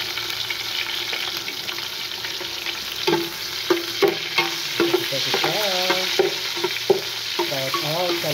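Red onion sautés in a hot pan, a steady sizzle punctuated by stirring clinks and scrapes from a utensil against the pan.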